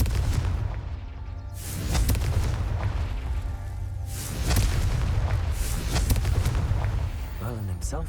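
A Confringo fire spell in a Harry Potter wizarding video game bursts into heavy booming explosions, rolling blasts swelling and fading over several seconds amid dense battle noise.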